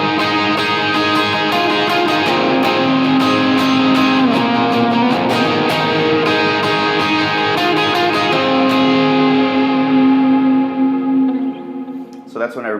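An electric guitar through a Helix/HX effects unit plays a song's bridge with a dense, echoing, distorted wash of sustained notes and rhythmic picking that fades near the end.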